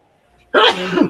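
A single sharp sneeze bursts out after a brief faint hum, loud and close, lasting about half a second.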